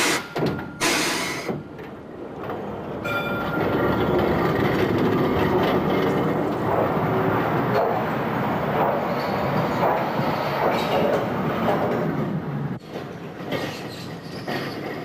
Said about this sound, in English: we went by tram